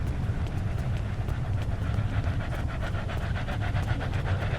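A dog pants steadily and rhythmically in the Star Trek Online Klingon event tutorial, a continuous run of quick breaths over a dense, rumbling game background.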